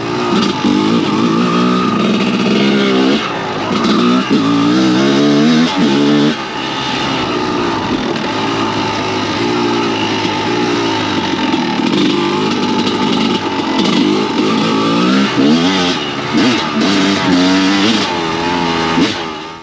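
A Honda CRF 450 dirt bike rides and accelerates at Montgueux, its engine loud and close, revving up and down repeatedly with rising and falling pitch through the whole stretch.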